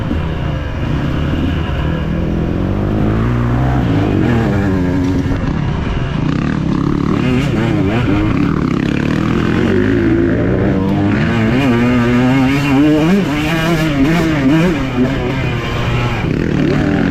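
A 2023 KTM 125 XC two-stroke dirt bike with throttle body injection ridden on trails, its loud, close engine revving and wavering up and down continuously, with wind rush over the mic.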